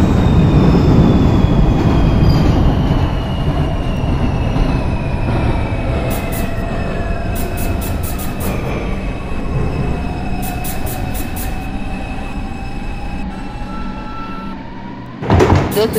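An R142 subway train on the NYC 6 line in the OpenBVE simulator runs steadily and loud, with continuous rumble, wheel squeal sweeping through, and repeated clicking bursts before a brief drop near the end.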